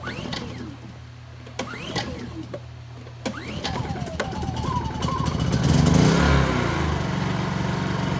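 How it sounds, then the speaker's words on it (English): A Honda EU2200 portable generator switching from gasoline to propane from a Hutch Mountain kit spits and sputters with irregular pops and bursts, then settles into a louder, steadier running drone. "it'll kind of spit and sputter like that a little bit as it burns up the residual that's left in the carburetor of gasoline"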